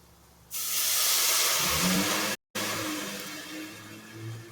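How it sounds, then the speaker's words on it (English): Loud, sustained steam hiss from a hot pan of dark-cooked onions being deglazed with Pendleton whiskey. The hiss bursts in suddenly, cuts out for a split second, then carries on and slowly fades. "Let's get our deglaze going."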